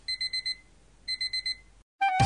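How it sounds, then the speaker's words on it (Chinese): Alarm clock ringing in the Minecraft video game, heard as two clear groups of four quick, high electronic beeps, a brief silence, then a loud burst of other game sound. "吃货学生听到闹钟响"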